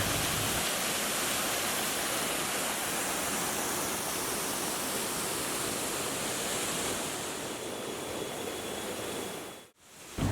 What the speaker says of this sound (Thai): ลักษณะน้ำตกก็สวยครับเป็นน้ำตกสายคู่ไหลลงมา